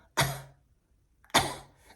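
A voice imitates a child's constant coughing with two sharp, harsh coughs separated by a short pause, close and clear in a quiet room.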